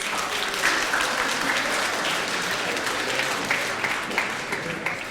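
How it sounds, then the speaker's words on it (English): Crowd at a student union election results announcement giving a round of applause for a losing candidate, sustained dense clapping from many people, steady and fairly loud, with faint voices mixed in. "Round of applause for Martin, please."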